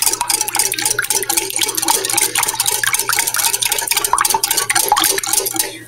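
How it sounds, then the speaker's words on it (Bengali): Egg, yogurt, spices, oil and water being mixed into a batter in a bowl, a steady run of wet stirring and utensil clinks against the bowl throughout, close and fairly loud with no talking. "এই উপকরণটি আমি ভালো করে মিশিয়ে নিব।"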